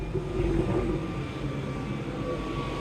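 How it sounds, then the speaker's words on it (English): A helicopter's steady, loud engine drone with a low rotor rumble passes overhead, filling the whole moment without voices. "The helicopter out there is distracting me because it's loud."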